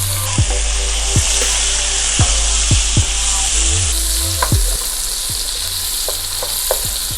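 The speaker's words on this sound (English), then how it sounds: "add the white onion in the pan, and we will stir fry this onion until the onion is soft" Chopped white onion sizzles steadily in a hot pan while being stir fried for a spinach and potato aloo saag, a constant close frying hiss broken by repeated light scrapes and taps of the spatula.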